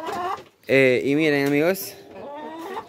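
Backyard hens being fed at home cluck and call loudly up close in one drawn-out vocal burst, while a person talks before and after it.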